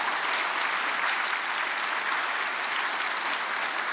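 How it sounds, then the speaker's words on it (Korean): A church congregation at an Anglican prayer service for peaceful reunification applauds to welcome the bishop, producing loud, continuous, even clapping from many hands throughout, with no talking heard. "우리 주교님 나오시는 것 박수로 환영하겠습니다."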